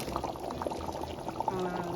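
Water poured into a pot of lamb stew with peppers, a burbling splashing stream over a couple of seconds, close and moderately loud.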